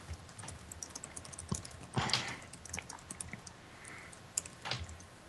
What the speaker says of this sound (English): I'm typing something on Skype